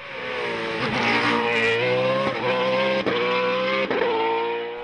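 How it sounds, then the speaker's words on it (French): A Reynard race car climbing a hill-climb course during a French Mountain Championship round, its engine a loud, close, high-revving howl that holds steady and dips briefly at each gear change, with no voices. "Mais c'est Stéphane Baudin au volant de sa Reynard qui s'empare de la 3e place"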